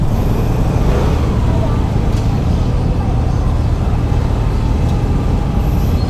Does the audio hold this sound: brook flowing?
no